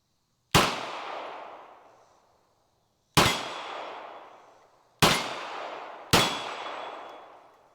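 Four sharp pistol shots from a Canik TP9-SFX fired one-handed, each a loud crack with a ringing decay, the first three spaced a few seconds apart and the last following quickly, with no talk.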